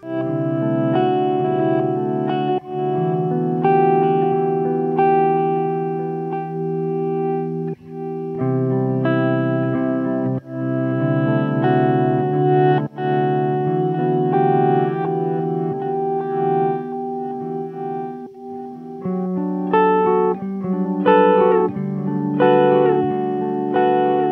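Electric guitar played through a pedalboard with lo-fi delay and reverb, sustained chords and picked notes smeared into echoing, chorus-like repeats, loud and continuous with no talking.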